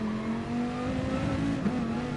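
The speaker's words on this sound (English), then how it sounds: "there was a little bit of throttle and then full power" A race car engine in a racing video game on the Spa circuit holds a loud, steady droning tone that rises slightly in pitch as the throttle opens, with no voices over it.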